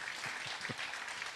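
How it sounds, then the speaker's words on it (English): Audience applause at an awards show, a soft distant patter of many hands, faint and continuous with a few low thumps. "Round of applause, please."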